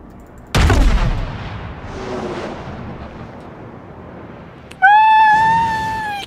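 Warship main guns fire in World of Warships with one loud booming blast that rolls off into a long rumble, followed by a sharp tonal whine near the end.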